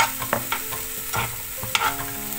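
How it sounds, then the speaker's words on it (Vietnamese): Bananas cooking in a pan, stirred now and then, with a steady low sizzle under scattered scraping strokes of the utensil; close and moderately loud, no voices. "Mình nấu một hồi các bạn, chuối của mình á nó sẽ mềm"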